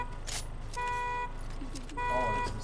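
Repeated electronic beeping alert from a sushi item in Fortnite, two sustained tonal beep bursts separated by a gap, heard under game noise and voices talking.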